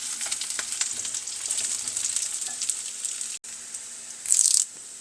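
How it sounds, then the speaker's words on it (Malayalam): Small shallots and two dried red chillies frying in oil in a pan, a busy crackling sizzle with scattered pops, a brief dropout, then a sharp hiss flare near the end. "പിന്നെ നമ്മൾ അരിഞ്ഞ് വെച്ചിരിക്കുന്ന ചെറിയ ഉള്ളി, അതിലേക്ക് നമ്മുടെ സ്റ്റൈലിന് നമുക്ക് 2 വറ്റൽമുളക് അങ്ങോട്ടിടാം."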